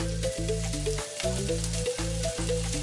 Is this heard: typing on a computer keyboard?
no